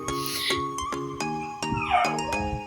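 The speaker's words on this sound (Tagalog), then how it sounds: "ang ingay ng doggy-doggy" A dog barks repeatedly in short, evenly spaced bursts, fairly close and loud, with a ringing tonal background throughout.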